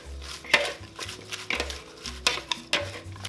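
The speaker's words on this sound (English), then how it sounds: "Just gonna mix it all together." Ingredients for a dinner dish are mixed with oregano and salt, giving repeated clinks and scrapes of a utensil against the dish in short bursts, close and moderately loud, with no talking.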